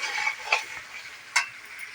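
Potato curry sautéing with cumin, ginger and chili in a village home kitchen, a soft hissing sizzle broken by two sharp spatula scrapes against the pan, close and quiet, no one speaking.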